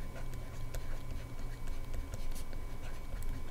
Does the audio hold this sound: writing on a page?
yes